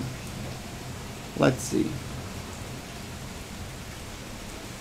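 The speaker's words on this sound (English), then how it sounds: "You guys let me know if you thought that this thunderstorm background sounds are an added bonus" Thunderstorm rain added over Naval Action sailing gameplay, a steady broad hiss of falling rain throughout, with a short spoken phrase briefly over it.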